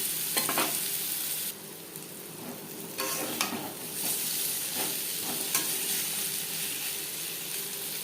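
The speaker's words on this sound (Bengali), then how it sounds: "লবণ হলুদ দিয়ে উচ্ছে ভেজে নেওয়ার পর" Bitter gourd pieces fry with salt and turmeric in a pan, giving a continuous sizzle broken by occasional stirring scrapes and clinks, no talking.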